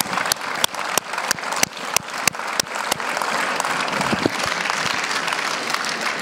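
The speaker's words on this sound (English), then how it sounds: "I would like to invite the audience to give them a good hand of applause" An audience at a conference applauds: a few scattered, distinct claps quickly build into steady, dense clapping that fills the room.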